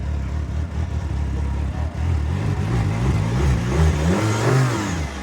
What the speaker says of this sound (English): It's misfiring bad. Now rev it.